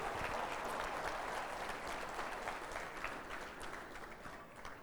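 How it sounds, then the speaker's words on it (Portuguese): A church congregation applauds steadily for several seconds, dense and even clapping with no voices standing out above it. "Você pode aplaudir Jesus por isso, irmão?"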